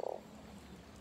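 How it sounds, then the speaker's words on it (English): In the video game Terra Nil, a frog croaks once with a quick burst of rough pulses at the start, followed by a soft low ambient game hum. "There's a frog!"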